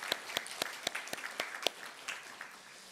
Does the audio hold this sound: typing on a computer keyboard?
no